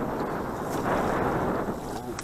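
Wind gusts roar steadily over a fishing boat on a river oxbow of the Pripyat, a dense, continuous buffeting rush across the microphone with no clear pauses.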